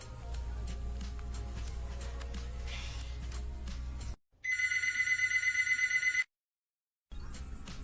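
A phone call ringback tone plays in repeated electronic bursts, preceded by a noisy stretch and broken by a short gap and a silent pause before the sound resumes.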